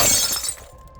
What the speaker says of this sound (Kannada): ಗ್ಲಾಸ್ ಬಿದ್ದು ಹೊಡೆದೋಗೋ ಥರ ಶಬ್ದ ಬರುತ್ತೆ